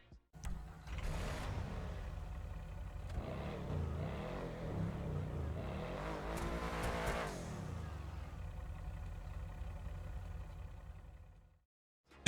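A modded free crawler engine sound on a vehicle in the FiveM game rumbles low and steadily, swelling in a few revs before cutting off abruptly, with no voices.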